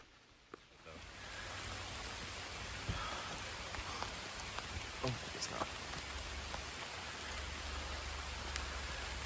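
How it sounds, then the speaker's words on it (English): Rain pours steadily at a lakeside campsite in an Ontario provincial park, a dense, even hiss with scattered nearby drops tapping throughout. "It is starting to rain."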